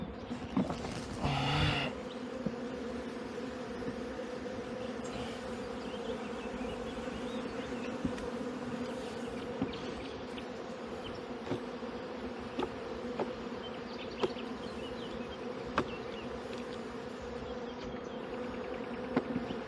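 Honeybees drone and buzz steadily around a hive during an acacia honey harvest, a dense, continuous close-up hum with occasional individual bees passing louder nearby.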